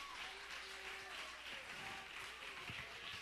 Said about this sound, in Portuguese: E você pode aplaudir o Senhor Jesus.